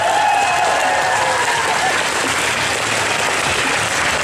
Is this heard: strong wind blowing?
no